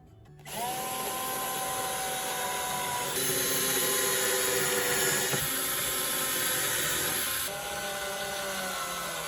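A power driver runs steadily, whining as screws are driven into wooden rails on a bandsaw miter sled, with a brief drop in pitch partway through and a slight change near the end.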